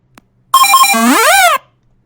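A Bop It electronic toy plays a short synthesized sound, a bright warbling tone with a rising and falling sweep that lasts about a second. It is loud and close, with silence before and after.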